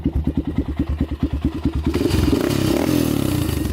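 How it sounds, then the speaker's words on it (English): A 400cc quad ATV engine running close by, starting with a choppy, rhythmic idle that then swells into a louder, rough revving roar with some clatter. "Motor sounds pretty good. Not too much rattling going on in there."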